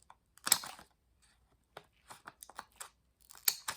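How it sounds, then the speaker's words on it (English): Scissors snip off the tip of a glitter gel-polished nail, a few sharp, close clicks and crunchy cuts spaced apart in a quiet room. "Some scissors."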